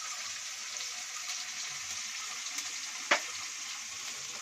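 Turmeric, chili powder and salt sizzling in hot oil as spices are fried in a pan for an egg and potato curry, a steady soft hiss with one brief stirring clink.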